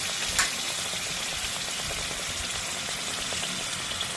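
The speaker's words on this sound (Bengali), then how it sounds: "এবার সিঙ্গারা ভাজছি।" Stuffed singara samosas frying in hot oil, a dense continuous sizzle and bubbling close up, with one brief knock near the start and no voices.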